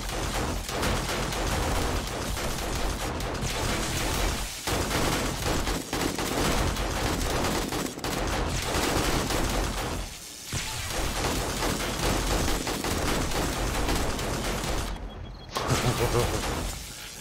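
Dense, continuous video game gunfire during a horde night in 7 Days To Die, with rapid overlapping shots and bursts filling the scene loudly, broken by a couple of brief pauses, while a voice talks over it.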